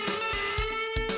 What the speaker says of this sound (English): The guitar. It makes a sound like this.